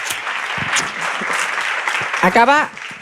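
A television studio audience claps in a steady burst of applause, fairly loud and close, while a presenter's voice carries over it and rises clearly near the end.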